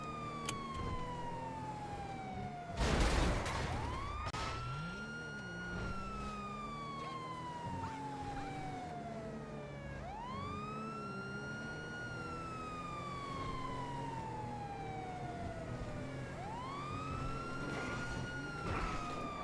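A police siren wails on and on in long rising and falling sweeps. It sounds muffled and moderately distant, with one brief louder burst of noise early on and no talking.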